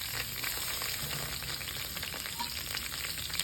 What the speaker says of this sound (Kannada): ಈಗ ಎಣ್ಣೆ ಬಿಸಿ ಆಗ್ತಿದ್ದಂಗೆ ಕಾಲಿಫ್ಲವರ್ ಹಾಕ್ಕೊಳ್ಳೋಣ